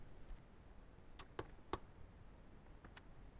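Several faint mouse clicks sound in a quiet room: a close pair, then one single click, and another pair near the end.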